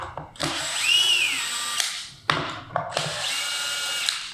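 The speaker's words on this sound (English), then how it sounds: "he's now just removed the 4 screws of which he can lift up the access floor panel" Power drill backing out the four screws of a carpeted raised access floor panel, with bursts of close, loud whirring and a rising motor whine, stopping briefly between runs, punctuated by sharp clicks.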